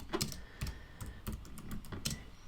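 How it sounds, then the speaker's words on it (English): Quick bursts of keystrokes on a computer keyboard as a place name is typed into a text field, a dozen or so close, crisp clicks in an uneven rhythm with no voices. "we can just simply type in Opera House"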